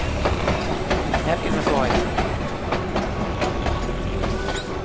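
A passing train in the point-and-click game The Night of the Rabbit rumbles with a steady clickety-clack of wheels over rails. It is loud and continuous, and a voice speaks briefly over it.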